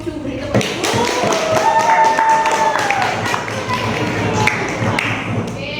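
A high school class in Madiun claps for a group after its score is announced. The clapping is a lively burst of many hands close by, with voices talking over it.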